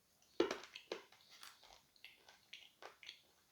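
Hard edible chalk is bitten and chewed close to the mic, with a sharp crunchy snap followed by a series of smaller dry crunches in an uneven rhythm.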